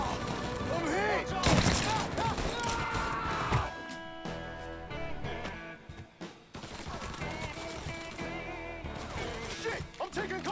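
Rapid gunfire in the Mafia video game, bursts of shots and impacts crowding a dense mix with a music bed and shouted voices over the top.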